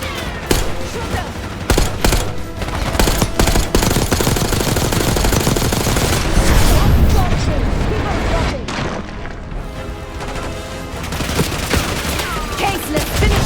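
Relentless automatic gunfire and heavy shots roar through a Call of Duty Black Ops 6 campaign firefight, loud and dense throughout, with bursts overlapping booms and impacts.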